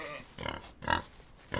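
Pigs on a farm in the video game Outlaws of the Old West give short, low grunts in three brief bursts, close and moderately loud.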